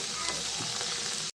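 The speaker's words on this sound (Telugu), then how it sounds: "ఇవి బాగా ఫ్రై అవ్వాలి ఫ్రెండ్స్" Okra sizzles and fries steadily in hot oil in a pan, a dense continuous crackle heard up close with no talking.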